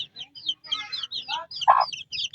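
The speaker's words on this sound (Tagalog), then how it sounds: "Yung inahin nila, ang laking inahin." A large mother hen clucks in short, repeated bursts among her seven newly hatched chicks, with soft peeping calls mixed in nearby and a brief louder cluck partway through.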